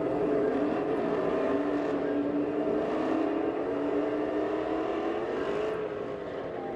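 A Dodge SRT 392 and a Mercedes-AMG GT race, their engines blending into a loud, sustained roar that holds steady and then eases slightly toward the end.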